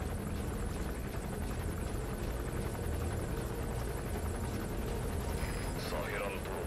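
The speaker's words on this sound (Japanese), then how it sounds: "スカルフェイスのヘリがある" In the video game Metal Gear Solid V, a helicopter drones steadily with a dense, rumbling rotor wash that stays loud and constant throughout, close by, with no talk.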